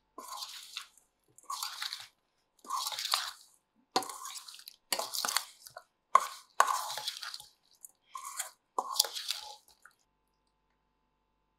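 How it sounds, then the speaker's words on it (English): Wet, squishy crunching as chopped garlic is stirred into a homemade tangy, spicy lemon pickle, a series of short mixing bursts separated by brief pauses, close and fairly quiet. "And then in grow my chopped garlic. I give this a good mix."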